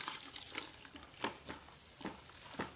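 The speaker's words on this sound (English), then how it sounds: "We are going to add 4 liters of water to the sulfonic acid" Water poured and stirred into sulfonic acid in a container while making transparent liquid soap, quiet sloshing and splashing with a few sharper bursts and a faint hiss underneath.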